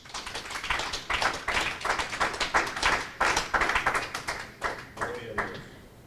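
A church congregation claps hands together as an offering of applause to God, dense sustained clapping for several seconds, fairly distant and reverberant, without speech.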